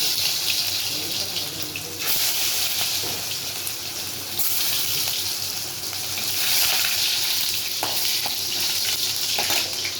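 Cumin seeds and crushed garlic fry in oil for an okra stir-fry, producing a loud, continuous, close sizzle and crackle that rises and falls over ten seconds, with occasional clinks.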